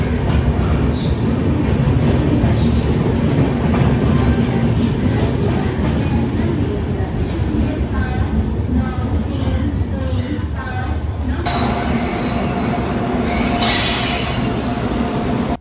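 A train rolls into New Jalpaiguri (NJP) station with loud, continuous rumbling and squealing wheels, steady throughout and close by, then a brighter metallic screech near the end; voices talk faintly in the background.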